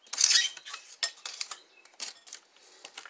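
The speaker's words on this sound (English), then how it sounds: "I'm going to take my wooden spoon and mix it well." A wooden spoon stirs cream of soup in a bowl for a crockpot chicken and gravy dish. Close, irregular scrapes and light knocks against the bowl sound in short bursts, with no talking.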